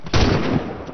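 A single loud burst of gunfire from the online shooter CrossFire, a sharp close shot followed by a noisy decaying tail, with no talk over it.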